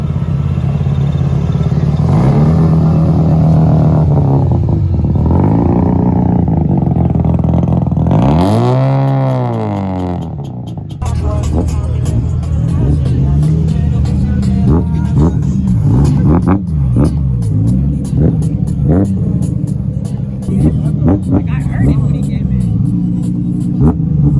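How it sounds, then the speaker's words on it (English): A Mazda RX-7 rotary engine revs loudly and repeatedly nearby at a car meet in Osaka, pitch sweeping up and down, with a brief dip before the revving resumes amid crowd noise. "Listen to that rotary sound."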